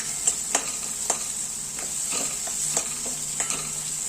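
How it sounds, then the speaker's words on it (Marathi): Chopped onion and green peas sautéing in a pan for puri bhaji give a bright continuous sizzle, punctuated by a handful of sharp spoon clicks as they are stirred, close by and without speech. "कांदा आणि वाटाणे आपले छान परतले जाते"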